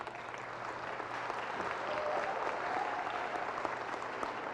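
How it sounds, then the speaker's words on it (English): A crowd at a public safety awards ceremony applauds firefighters, the clapping steady and full, swelling slightly near the middle and holding even to the end. "So let's give them a round of applause,"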